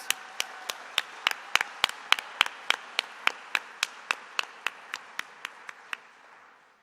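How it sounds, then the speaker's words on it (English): Rhythmic hand claps from an audience honoring Indianapolis media, entertainment and sports award recipients at a presentation ceremony, about twenty steady, crisp claps that sound like a single nearby clapper more than a full crowd, fading out at the end. "Please join me in a round of applause for Indy's best and brightest media, entertainment, and sports honorees."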